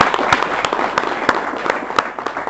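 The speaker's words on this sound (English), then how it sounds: "a big round of applause for Harley" Audience applause at a Harley-Davidson Passport to Freedom event in Bangalore, a dense patter of many hands clapping with a few sharper claps, steady and close throughout.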